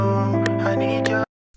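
A sustained vocal run through the FL Studio Parametric EQ 2 radio effect preset, thin and band-limited, held steadily for just over a second before cutting off abruptly into silence.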